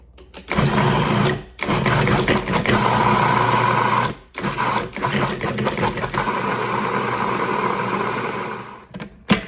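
A food processor pulses black beans with cocoa powder, salt and baking powder for brownie batter, giving loud whirring bursts of several seconds separated by brief stops.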